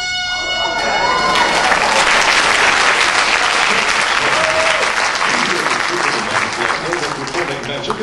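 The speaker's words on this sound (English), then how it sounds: "Receive your well-deserved round of applause." A live audience gives a sustained round of applause after a magic trick in which a bandana vanishes, dense clapping that swells quickly and holds steady at full strength throughout.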